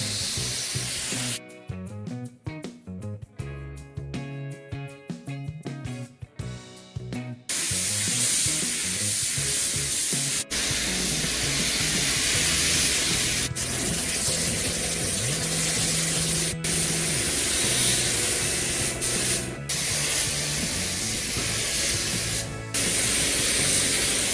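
Steady hiss of a paint spray gun applying a full coat to a classic car in a body shop, running continuously, close and loud, with a short stretch of music-like tones before the spraying settles in.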